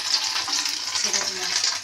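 Fish roe fritters sizzle in hot oil in a pan, a steady, dense frying hiss that continues close and alone without a break.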